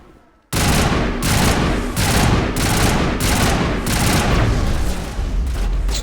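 Gunfire erupts in the Mass Effect video game after a brief quiet moment, then continues as dense, loud bursts of rapid shots and booms in repeated volleys for several seconds.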